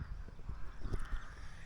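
Crows cawing outdoors at an autumn campsite, a few rough calls over steady low background rumble, moderately faint and not far off.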